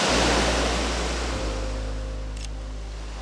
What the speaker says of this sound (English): It's actually very calming watching the water coming in and out.